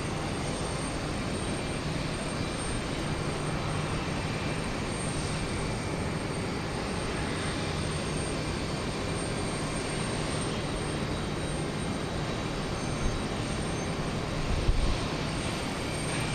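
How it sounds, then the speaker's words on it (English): Airliner taxiing for takeoff at Houston Intercontinental, a steady broadband engine roar heard from a distance, continuous and even throughout with no voices. "another is taxiing now to take off"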